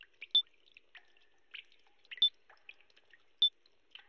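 Water dripping in the horror game Your Turn To Die, three crisp, evenly spaced plinks with faint small drips between them, close and quiet against an otherwise silent background.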